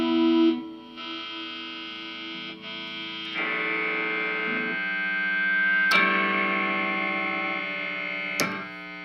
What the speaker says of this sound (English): Pretty much the only negative thing I can say about these pickups are they're really noisy.